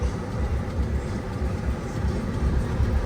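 Cabin rumble from inside a car stuck in heavy holiday traffic, a low rolling drone with slight pulsing that stays steady and close and has no talk over it.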